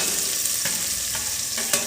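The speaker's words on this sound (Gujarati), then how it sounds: "તો આવી રીતે વઘાર કરું છું" Hot oil sizzles continuously as ivy gourd, onion and garlic fry in a tempering of mustard seeds, cumin and curry leaves, with brief metallic spoon clinks and scrapes punctuating the close, steady crackle.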